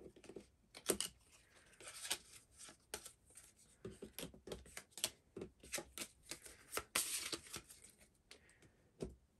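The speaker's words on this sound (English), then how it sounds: "shuffle this card back into the residence deck" Playing cards for a board game of This War of Mine are shuffled close up, with a run of quick papery riffles and soft taps in irregular bursts and no talk.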